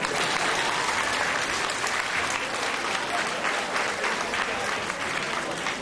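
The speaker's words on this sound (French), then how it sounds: "applaudissements." A live audience breaks into loud, dense applause at a show, a continuous crowd of clapping hands that fills the room without letting up.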